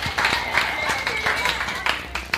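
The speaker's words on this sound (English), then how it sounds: "Just clap if you're at least 30." Scattered audience clapping at a live comedy show, a brief burst of hand claps from part of the crowd mixed with murmuring and background voices.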